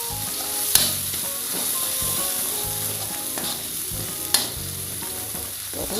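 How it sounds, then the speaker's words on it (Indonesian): Bay leaves and ginger frying in a pan, a steady close sizzle broken by the scrape and clack of a spatula stirring, with two sharper knocks against the pan, and no voices. "Terus diaduk-aduk sampai matang atau harum ya ibu-ibu, sampai kuning kecoklatan ya"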